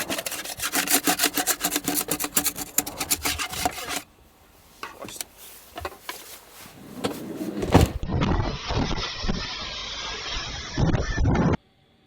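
A plastic scraper rasps and scrapes across packed snow during an Arctic blizzard cleanup, loud, close repeated strokes for several seconds, then a pause and a stretch of broader, rougher scraping.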